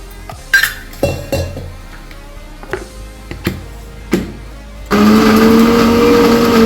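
A few clinks and knocks of kitchenware, then a mixer grinder grinding chilies, salt and a little water switches on with a loud, steady whirring roar that continues to the end.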